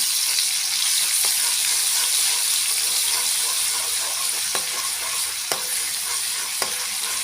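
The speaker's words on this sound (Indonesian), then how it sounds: "ini minyaknya sudah panas, saya masukkan dulu" Ingredients hit hot cooking oil in a pan while making sayur asem, setting off a loud, steady sizzle and hiss close by, with a few light clicks of stirring and no talking.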